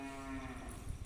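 Dairy cow mooing in a shed at a flooded military dairy farm in Cumilla, a single loud, close, drawn-out low call lasting about a second with no talk over it.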